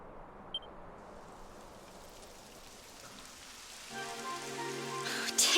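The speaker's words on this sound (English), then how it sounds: "It would have to go and start raining, wouldn't it?" Rain falling in the video game Dragon Quest XI, a steady soft hiss of rainfall that swells toward the end as brighter tonal game sounds rise underneath.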